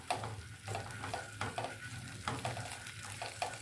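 Okra frying in a little oil on a medium-high flame, a close steady sizzle with rhythmic stirring scrapes and light clinks of utensil on pan.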